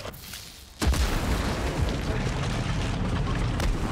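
A Panzerfaust blast in Sniper Elite 5 lands as one sudden heavy boom, followed by a sustained rumbling roar that keeps going to the end.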